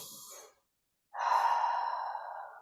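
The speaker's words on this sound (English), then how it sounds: "Taking a deep breath." A slow, deep inhale as part of box breathing, a long steady airy breath heard close and alone after a brief pause.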